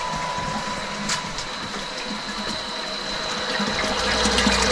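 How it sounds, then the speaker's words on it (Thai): Steady rushing of water pouring from the outlet of a solar-powered inverter water pump, with a constant whine and hum running beneath the flow. "น้ำไหลปกตินะครับ"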